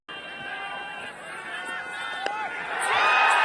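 Crowd at Tribhuvan University Cricket Stadium in Kathmandu during a Nepal cricket match, a broad murmur of chatter and distant shouts that swells toward a louder cheer at the end, under a commentator's voice.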